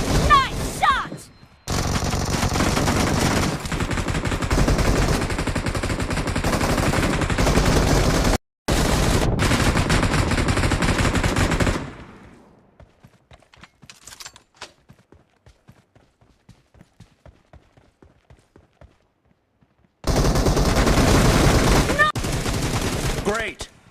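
Gunfire in a shooter video game: long dense stretches of rapid automatic fire, loud and sustained, broken by a quiet gap of scattered faint shots before another heavy burst starts.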